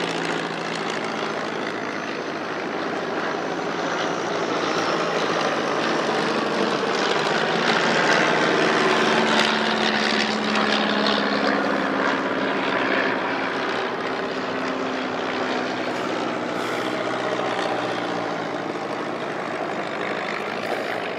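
A propeller aircraft roars past at a flight festival at Shuttleworth, a loud, continuous engine drone that swells toward the middle and stays strong throughout, with no talk over it.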